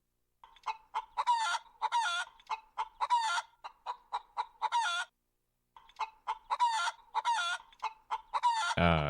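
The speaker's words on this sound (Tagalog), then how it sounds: "Ana mga tingog sa tong manok gahapon" Chickens cluck in quick repeated bursts, then a rooster starts a loud crow at the end, all close and clear with no talk.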